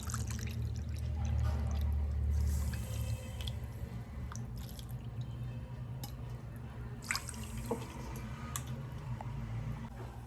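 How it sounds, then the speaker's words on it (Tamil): Water poured from a cup onto sugar in a kadai to make gulab jamun syrup; a steady close pour that is heaviest in the first few seconds, then settles into lighter splashing and trickling, with no talking. "இப்போ இதே கப் அளவில் 2 கப்பு தண்ணி சேர்த்துக்கிறேன் நான் இதில்."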